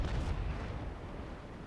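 Ship cannon fire in the naval battle game Naval Action, a single deep boom that rolls out and fades over a second or two, with no voices.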